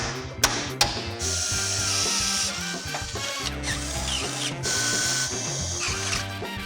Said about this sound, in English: I'm gonna get these 3 holes drilled, get the bolts in